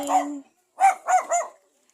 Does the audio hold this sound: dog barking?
yes